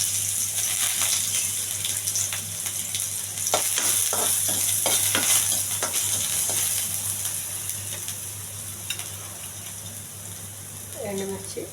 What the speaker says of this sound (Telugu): అల్లం అండి బాగా వేగాలి.